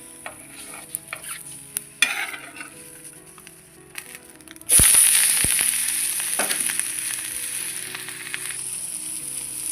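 An omelette fries in oil in a pan: quiet clinks and scrapes at first, then a sudden loud hiss as it hits the hot oil, settling into a steady close sizzle with occasional utensil taps.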